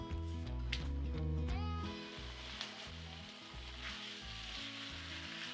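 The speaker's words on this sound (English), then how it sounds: "Cover this pot and let cook for about just 5 minutes to soften the potatoes" Potatoes cook in a covered pot with a soft, steady sizzle and bubbling under a low buzzing hum, and there is a brief clatter near the start.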